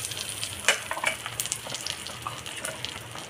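Ginger, garlic and almonds frying in melted butter in a pan, giving a steady soft sizzle with a few sharper crackles and spatters close by, no voices.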